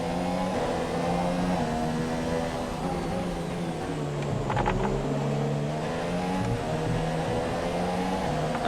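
A Formula 1 car engine in the F1 2017 racing game at the Singapore circuit screams loud and close, its pitch rising and dropping through repeated gear shifts and throttle changes without a break.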